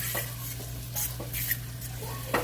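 Chopped beef carne picada sizzles in a pan with a splash of teriyaki sauce, a steady hiss and crackle broken by several scrapes and clinks as a utensil stirs against the pan.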